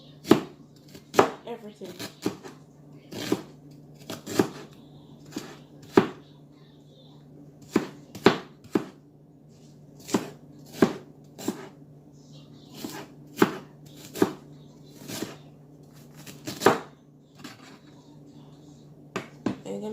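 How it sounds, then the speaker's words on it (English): Fresh ginger with the skin on is cut up with a knife, giving sharp, close, irregularly spaced chops on a board. Brief speech comes in once between the strikes. "I'm gonna cut up the ginger."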